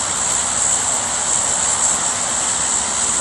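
A transport airplane's engines give a steady, loud drone in a battle royale video game, a constant broadband roar with no breaks.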